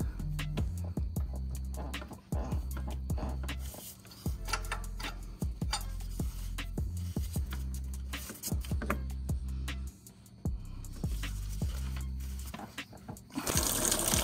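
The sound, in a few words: coolant pouring out of a 2011 Kia Soul engine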